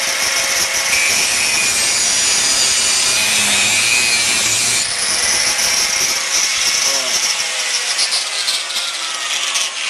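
Saw cutting through the hardened steel core of an old motorcycle steering head bearing, a continuous loud grinding rasp with strokes shifting in pitch, up close and without talk.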